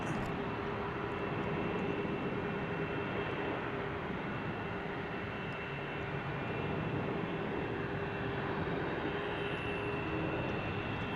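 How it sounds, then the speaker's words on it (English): A United Express Embraer E-175 airliner at Salt Lake City airport gives a steady, broad engine roar with a faint tonal whine running throughout, moderately loud and unbroken, with no voices. "You got Air Shuttle United E-175 headed back to Denver, Colorado."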